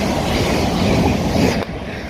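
A passenger train on the Brighton Mainline rumbles loudly and close by as it pulls away from a station, wheels clattering over the rails in a dense, continuous roar.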